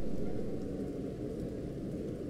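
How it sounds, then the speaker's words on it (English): Steady, dense rain noise in the horror video game Underhell, low and even throughout with no voices, like a constant downpour heard from nearby. "Okay, it's raining."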